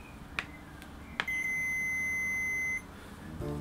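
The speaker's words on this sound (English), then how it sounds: "Here is a little continuity tester that makes this noise." A small continuity tester gives a steady electronic beep lasting about a second and a half, preceded by a couple of faint clicks as probes touch shielding tape in a guitar body, quiet and close.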